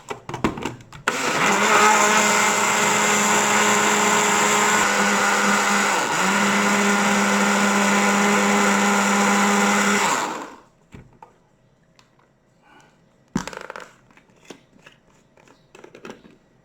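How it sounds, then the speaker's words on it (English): A blender whirs loudly for about nine seconds blending bulletproof coffee, a steady motor whine that shifts slightly in pitch midway, then cuts off, followed by quiet clatter and a brief rattle. "And just blend it."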